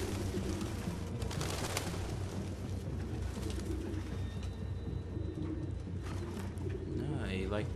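Pigeons coo in the video game Detroit: Become Human, soft repeated low calls layered over a busy ambient background with quiet voices underneath.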